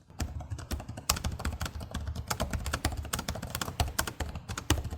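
Rapid, crisp clicky typing on the keyboard of an HP OMEN Max 16 (2025) gaming laptop with closely spaced rounded keys, a dense continuous patter of key presses heard up close and alone.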